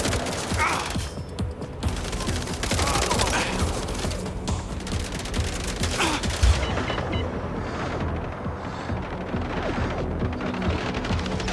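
Gunfire in MindsEye rattles in sustained fusillades and machine-gun bursts during a fight alongside guard bots, loud and continuous with mechanical clanks and a brief voice mixed in.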